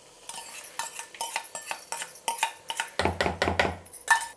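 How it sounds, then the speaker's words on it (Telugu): A spoon stirs a mixture with curry leaves in a pan on a hot stove, making a series of close scraping and clinking strokes that grow heavier and louder toward the end. "దీన్ని వేడిపైనే బాగా కలిపేయాలి ఇట్లా."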